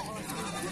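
A goat at a livestock sale bleats in a short, wavering cry, close and fairly loud, with a voice talking underneath.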